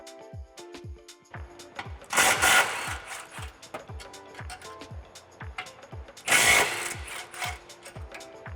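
A ratchet with a 13mm socket and extension works the exhaust isolator bracket bolts on a 2015-2022 Mustang, making a fast, regular run of close clicks with two louder rasping bursts.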